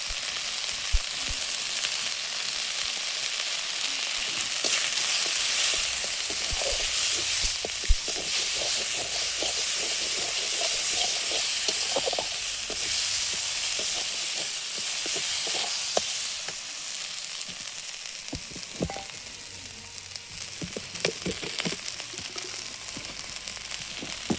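Oil sizzles and hisses loudly and continuously in a hot pan, a dense steady frying roar with faint scrapes and pops throughout, close by and without speech.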